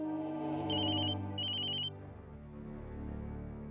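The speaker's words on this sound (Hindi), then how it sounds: "एक मिनट, हमारा फोन है।" A phone rings in two short trilling bursts over soft background music, then the ringing stops and the music carries on alone.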